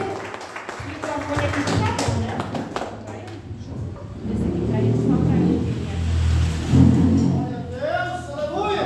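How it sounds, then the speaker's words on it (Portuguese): A church congregation claps joyfully during a Portuguese-language service, the sharp claps most prominent early on before voices and a warm, resonant wash of sound take over. "as palmas bem alegres para Jesus"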